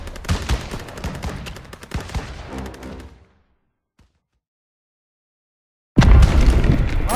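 Battle gunfire in Call of Duty WWII: dense, loud bursts of rifle and machine-gun shots with booms for about three seconds, then near silence, then a heavy barrage erupts again close by.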